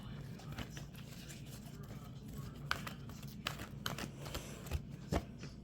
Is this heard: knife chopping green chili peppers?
no